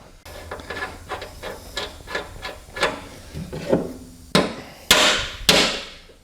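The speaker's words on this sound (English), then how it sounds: "We should be able to take a hammer and just tap these out of there." A hammer taps out the blade spindle bearings on a Toro Time Cutter zero-turn mower, a series of close metallic strikes, lighter and evenly spaced at first, then three much harder ringing blows at the end.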